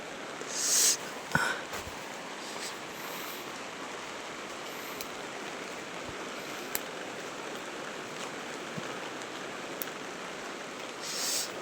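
Heavy rain pours down in a steady, even hiss that fills the whole stretch, with a few faint knocks and drips standing out against it.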